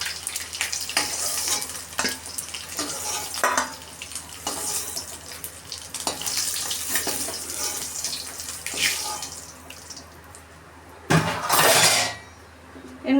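Eggs fry in oil in a pan with a close, crackling sizzle while a spatula scrapes and lifts them out in repeated clattering strokes, and a louder burst of sizzle comes near the end.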